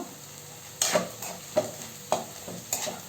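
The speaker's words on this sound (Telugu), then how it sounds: "తిరగమాత కూడా బాగా వేగింది చూడండి అందులోనే పసుపు వేసుకుంటున్నాను" A tempering fries softly in a pan while turmeric is stirred in for a dal charu, with a quiet, steady sizzle broken by regular spoon-scraping strokes about every half second.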